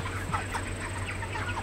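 Broiler chickens raised on a floor cluck softly and repeatedly, several short calls overlapping against a steady low background hum in a poultry shed.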